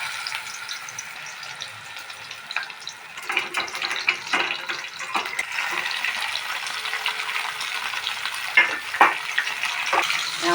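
Chicken tikka kebab pieces frying in hot oil, a steady crackling sizzle with scattered sharper pops and some stirring or handling noises, close and moderately loud with no talking.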